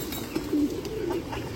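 A pigeon on a Bangladeshi loft coos softly in a few low, throaty rolls against a quiet room background, with no talking.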